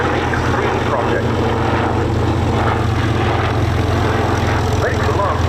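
Army Air Corps Lynx Mark 7 helicopter flying at the RAF Cosford air show, a loud continuous rotor and engine roar with a commentator talking over it.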